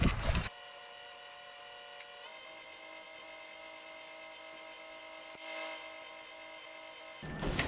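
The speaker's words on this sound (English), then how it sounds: "I'm gonna go ahead and knock off the burrs here on the grinder" Bench grinder running steadily as burrs are knocked off mild steel pieces for a forge-welded Damascus billet can, a continuous whirring drone with a faint extra rasp midway and no talk.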